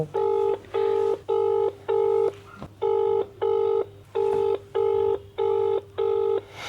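During a prank phone call, the line gives about ten evenly spaced electronic tones in a steady on-off rhythm, loud and close, like a call being dialed and ringing.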